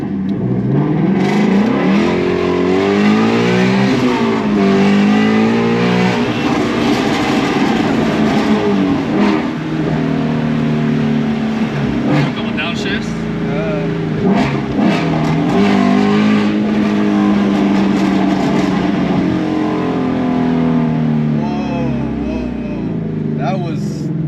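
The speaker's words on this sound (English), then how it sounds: "This is my first time in a GT350R, and I'm very excited to see how it feels and also the sound" A 2018 Ford Mustang GT350R engine revs and accelerates loudly through gears, the roar rising and falling, heard from inside with a voice talking over it.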